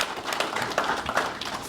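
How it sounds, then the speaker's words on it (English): Applause from a graduation ceremony audience, a continuous patter of many hands clapping at moderate distance, steady for the whole stretch without any talk over it. "Another round of applause to all of you."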